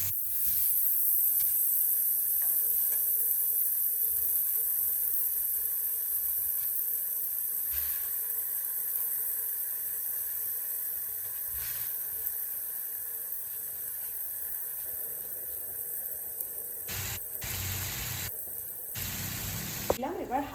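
Marinated mourala fish hitting lightly fried onions in hot oil, giving a steady close sizzle and hiss that runs throughout, with brief clatter near the end.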